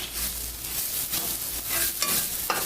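Onion and tomato sautéing in hot oil in a pan, a steady close sizzle broken by scraping stirs, with no voices.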